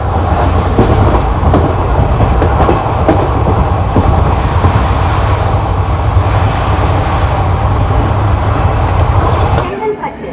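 The West Coast Superfast Express sleeper train rolls along the rails after leaving Arakkonam Junction, with a loud, steady low rumble and faint rhythmic clatter that drops away near the end; a voice speaks over it.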